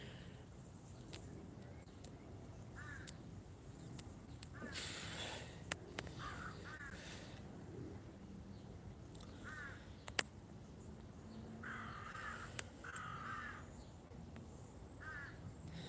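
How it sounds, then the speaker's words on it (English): Crows cawing outdoors in short repeated bursts of harsh calls, some near and some farther off, scattered across a quiet background. "these birds are really fucking noisy today"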